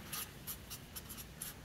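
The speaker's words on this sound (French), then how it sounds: "j'écris le résultat et le 0, je le mets là" Pen writing a result by hand on paper, several short scratchy strokes in an irregular rhythm, very faint and close with no talking.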